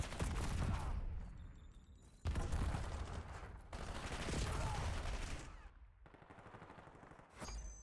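Video game gunfight with rapid bursts of gunfire and pistol shots in dense, faint clusters, cutting in and out in sections, with a commentator's voice underneath.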